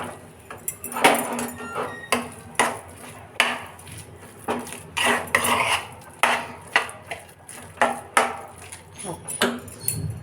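Potato pachadi being stirred and mixed in a pan, with a steady run of spoon scrapes and knocks against the metal at a loose, regular rhythm, close and clear.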